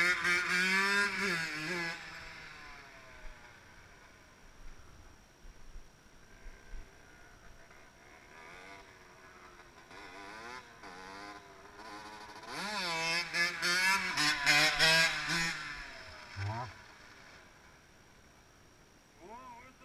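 An 80cc two-stroke motard stunt motorcycle revs and rides in buzzing bursts, rising sharply at the start and again later, with people talking over much of it.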